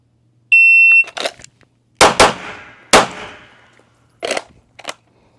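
A shot timer beeps, then three sharp, loud pistol shots crack in fast succession during a range drill, followed by two fainter, more distant shots from elsewhere on the range.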